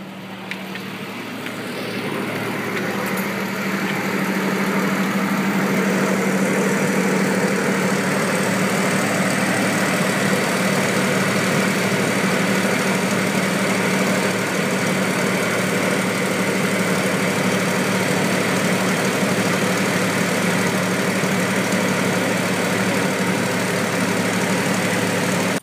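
Car engine idling steadily after an exhaust tailpipe repair patched with a soup can, a continuous low even rumble with a faint rise at the start, no voices.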